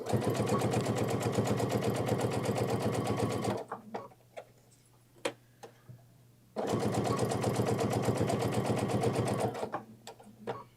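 A sewing machine stitching a seam on a Morning Post Bag runs loudly and steadily in two long bursts, separated by a pause filled with small clicks and handling noises.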